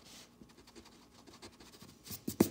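Eraser rubbing across a board to remove a light rough sketch of a cosine graph, soft scratchy swipes building to louder, brisk strokes near the end, close and fairly quiet.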